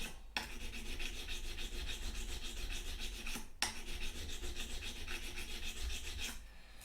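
A metal file rasps across a guitar fret to lower its height, in steady back-and-forth strokes with a brief pause midway, close and alone with no talking.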